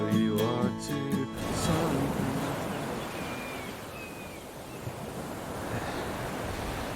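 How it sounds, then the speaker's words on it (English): Sea waves wash onto the beach at Scheveningen on the seaside edge of The Hague, a broad, steady surf roar with gusting wind, following a brief burst of music at the start. "This is the beach at Scheveningen. It's on the seaside outskirts of The Hague."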